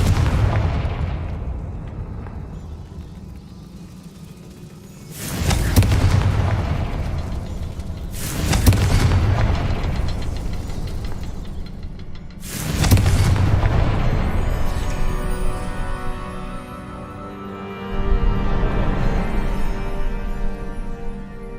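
The Confringo fire-blast spell in the video game Hogwarts Legacy sets off three loud, booming explosions several seconds apart, each with a long rumbling decay, over quiet game ambience.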